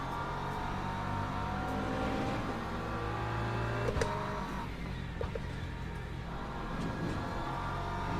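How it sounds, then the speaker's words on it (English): Hypercars in the Le Mans Ultimate racing game at Monza, a dense layered engine roar with overlapping rising and falling whines and a few sharp transients as the cars sweep past, steady and fairly close. "Hypercars are here."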